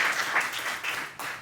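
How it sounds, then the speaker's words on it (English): A group claps for people who shared during a talk session, a brief, fairly soft wash of many hands with small swells, no voices over it. "clap it up everyone who shared."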